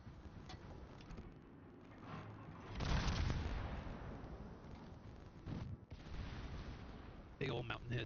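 A World of Warships naval shell slams into a mountain, a loud booming impact with a rumbling tail about a third of the way in, set against steady battle ambience and distant gunfire.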